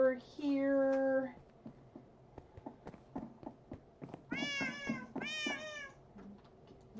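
A cat meows loudly and close, one long drawn-out call at the start, then two rising, wavering meows after a pause, with faint clicking and tapping in between.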